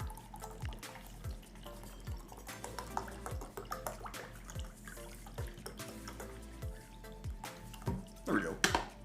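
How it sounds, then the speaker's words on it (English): Water pours into a bottle or glass from a tap, with splashing and dripping running throughout, faint clicks and knocks scattered on top, and a louder burst of water near the end. "And while this goes, I'm refilling my water."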